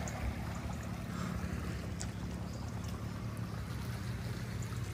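A passenger fast ferry passing near a marina off Brač island, heard as a steady broadband rush of engine and wash churning water, continuous and fairly loud with faint wind, no voices.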